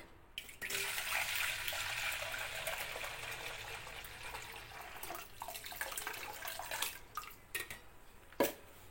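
Soaking water draining from soaked urad dal in a home kitchen as idli batter is prepared, a steady watery trickle and pour with a few drips and small clatters near the end, no talking.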